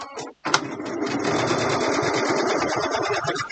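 A sewing machine quilts fabric, starting with a brief burst, a short pause, then a loud, rapid, steady stitching clatter that runs continuously close to the microphone.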